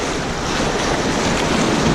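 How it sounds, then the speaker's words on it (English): Broad, steady rush of river waves on the Lower Salt River during a float, loud and continuous with wind buffeting the microphone, no voices. "Some pretty good waves."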